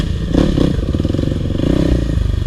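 A 2022 Kawasaki KLX 300R dirt bike engine revs and pulls hard, its buzzing drone steady and close with clattering and scraping from the trail as it climbs a small hill.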